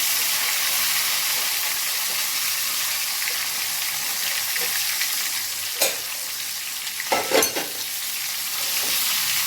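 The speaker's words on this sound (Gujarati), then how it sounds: "આપણે શીંગને સરસ રીતે પહેલાં તેલમાં સોતે કરી લઈએ 1 થી 2 મિનિટ માટે" Steady sizzling of washed drumstick pods frying in hot oil with turmeric, with a few brief stirring clatters near the end.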